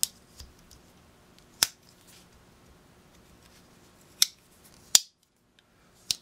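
Sharp metallic clicks from a pocket knife with 1095 carbon steel blades, half stops and long pulls as a blade opens and snaps shut. About five crisp snaps come one at a time, close and isolated against a quiet background.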